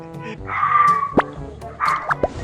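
A dog barks twice, sharp bow-wow yelps separated by a pause, close and fairly loud, with game sounds faintly beneath.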